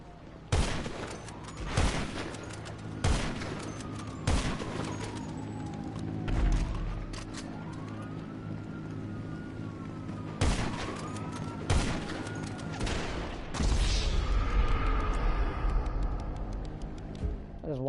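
Gunfire in GTA Online as two players shoot in an airport: sharp, loud shots come in scattered bursts and single cracks over a constant engine-like drone, with a voice speaking at times.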